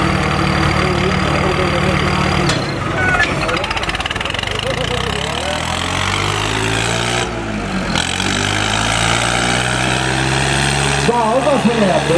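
A Swaraj 855 tractor engine idles loud and close, a continuous low chugging drone whose pitch rises and falls with brief revs, while other engine sounds and voices mix in the background.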